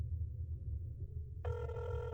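A telephone rings in the video game INFRA, a steady electronic ring tone cutting in about two-thirds through over a low background hum, with no talking.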